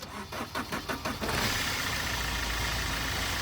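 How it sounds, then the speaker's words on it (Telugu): A starter cranks in several quick, rhythmic pulses, then the diesel engine of a 2017 Fiat Adventure catches and settles into a steady, rumbling idle close by. "ఇప్పుడైతే ఒకసారి వెహికల్ స్టార్ట్ చేసి చూపిస్తాను"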